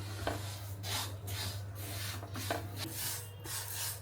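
Fenugreek seeds are dry-roasted in a pan without oil and stirred, giving soft, repeated rasping scrapes over a low steady hum, all fairly faint.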